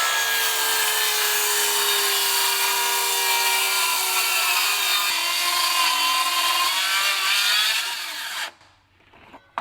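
A cordless 9 1/4 track saw with a Diablo blade cutting through a stack of 3/4 plywood sheets, a loud sustained whining rip for several seconds that stops abruptly, then the motor winds down.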